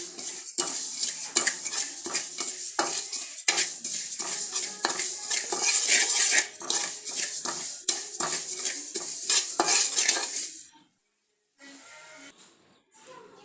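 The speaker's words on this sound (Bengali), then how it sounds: "এই হচ্ছে কালো জিরা আমি সুন্দর করে বেছে নিয়েছি। এগুলি ভালো করে টেলে নিচ্ছি সুন্দর করে।" Black cumin seeds dry-roasting in a pan, stirred with a metal spoon: a dense, rapid clatter of scraping and tapping over a bright dry hiss, continuous and close, stopping near the end before a faint resumption.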